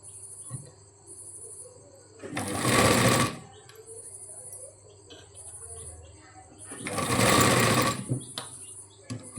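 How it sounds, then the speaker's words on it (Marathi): Sewing machine stitching lace around a curved, circular outline, two loud bursts of rapid stitching separated by a quiet pause, with faint background chirps and hum. "हळूहळू गोल गोल फिरून टिप मारून घ्यायची."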